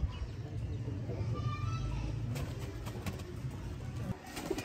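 Sialkoti breeder pigeons coo softly, low and muffled, beneath steady background noise and scattered faint clatter, with a voice talking over them.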